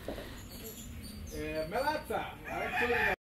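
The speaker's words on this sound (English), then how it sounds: "encountering countryside animals like roosters and chickens" Roosters and hens in a Dominican village yard near Punta Cana, with close clucking and drawn-out crowing calls repeating over a steady outdoor background, loud and near in the second half.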